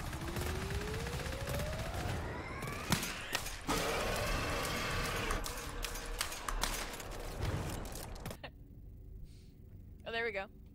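An automated turret in the co-op shooter GTFO fires repeated sharp shots through a busy game mix with rising tones, while players talk over it and it ends on a short quieter stretch.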